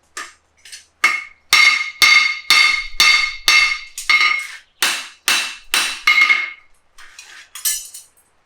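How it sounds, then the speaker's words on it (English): A hammer strikes a horseshoe on an anvil to flatten the ground side and heel, giving about a dozen sharp, ringing metallic blows in a steady rhythm that fade to lighter taps, close and loud with no talking. "flatten the ground side, flatten up underneath the heel, so find a bit of a sharp edge on the anvil"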